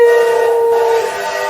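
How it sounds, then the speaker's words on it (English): A train whistle sounds a bright, steady multi-tone blast for about a second and then fades, with no clear chugging and no voices. "Get aboard this train, for the gospel train is coming. Choo-choo!"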